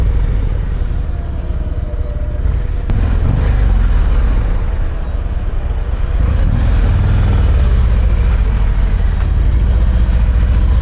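A Harley-Davidson Street Glide motorcycle engine idling up close, a loud, steady low rumble that runs unbroken throughout, with no voices.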